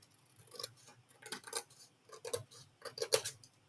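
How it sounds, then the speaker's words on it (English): Scissors cutting down a paper envelope: several quiet, crisp snips and rustles in short bursts with brief pauses between them, close by. "So I'm going to have to cut it down."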